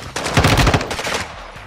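Automatic gunfire in a Modern Warfare 2 co-op match, a loud, rapid burst of shots lasting about a second, close and punchy, then fading out.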